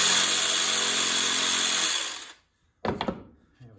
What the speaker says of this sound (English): right now I'm sculpting a little bit with a jigsaw.